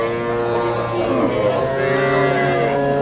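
A dairy cow at a busy livestock market in Bogura, Bangladesh, lets out one long, low, sustained moo that fills the whole moment, close and loud, with crowd murmur beneath.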